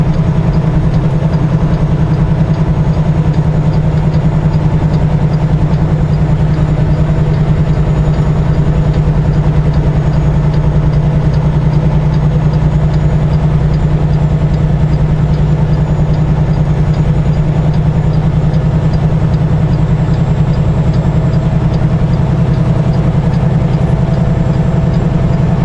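A steady engine idles loud and close, a constant low rumble with no change in pace or pitch throughout.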